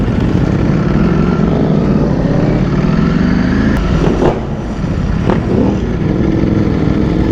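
A Ducati Panigale V4 motorcycle with an aftermarket exhaust roars steadily at close range, its engine note rising and falling through brief throttle changes, with no talking.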